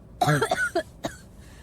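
A short burst of several raspy coughs followed by one more isolated cough, close and fairly loud, from a Ukrainian narrative video game.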